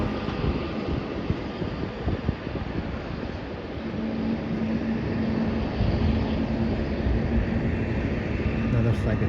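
A landed airliner at Melbourne Airport rumbles with a steady, broad roar and low hum, heard from outside near the terminal with wind buffeting the microphone throughout.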